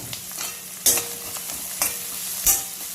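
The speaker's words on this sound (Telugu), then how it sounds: "ఆనియన్స్ అయితే ఫ్రై చేసుకున్నాం." Onions with salt frying in a pan, a close crackling sizzle broken by three sharp stirring scrapes of a utensil against the pan, no voices.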